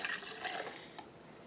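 Coffee pours briefly and softly into a cup for a small macchiato, a short gurgling trickle that fades after a second.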